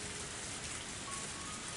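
Steady rain pouring down in the video game Higurashi: When They Cry, a dense, even hiss of falling water with no breaks, continuous and fairly faint throughout.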